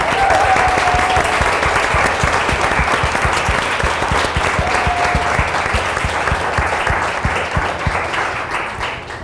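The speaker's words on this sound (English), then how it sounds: "let's give ourselves a round of applause and Alicia a round of applause" An audience at a book launch panel applauds loudly and continuously, a thick steady clapping that holds strong for about nine seconds and eases off slightly at the end.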